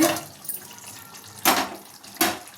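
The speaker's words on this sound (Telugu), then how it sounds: "ఇప్పుడు ఇందులో ముక్క ఉడకటానికి ఒక గ్లాసు నీళ్ళు పోసుకుందామండి" A glass of water poured into a pan of chicken curry to cook the meat, heard as two short, loud splashing gushes after a softer watery start, with no voices.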